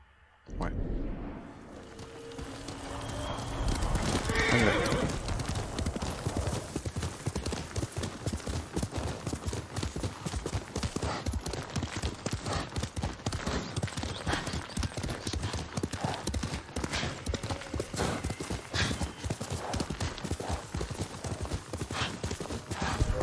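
Rapid, steady clip-clop of horse hooves galloping for a long stretch in the video game Ghost of Tsushima, close and constant, with a brief whinny early on.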